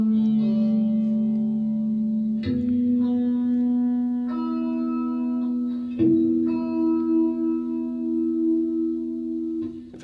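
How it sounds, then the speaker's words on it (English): Sustained electric guitar chords ring out with a washy reverb tail, struck anew every couple of seconds, close and steady with no voices. "If I turn off the reverb, I could hear it better."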